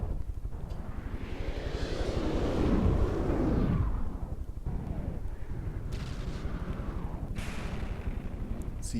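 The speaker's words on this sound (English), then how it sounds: "See the missiles continuing to come in here." Missiles fire and explode during a video game battle, a heavy rumbling barrage of booms that swells to a sustained roar early on, then continues as repeated thudding blasts with sharp higher bursts.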